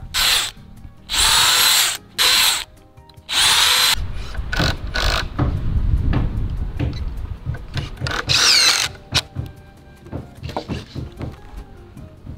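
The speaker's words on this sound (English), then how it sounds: "I'll pre-drill all of them" A power drill whirs in several short, loud bursts while pre-drilling holes for a screen porch build, then clattering, knocking and handling noises follow, with bits of talk mixed in.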